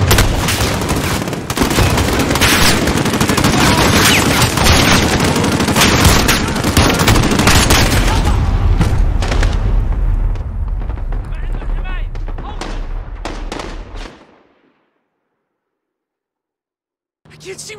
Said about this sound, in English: I can't see where they're shooting from.